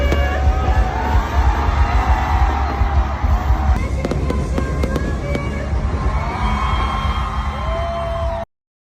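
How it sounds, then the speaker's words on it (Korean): Loud fireworks boom and crackle in quick succession at a concert at Kaohsiung National Stadium, with sharp bursts over a rumbling background and faint crowd noise. "검은 하늘을 밝히는 불꽃놀이는 황홀함을 선사했는데요."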